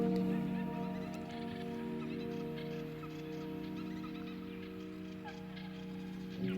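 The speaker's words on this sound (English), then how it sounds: "Soundscape again, guys," Bird calls drift over a sustained droning musical bed, soft and layered into the ambient texture.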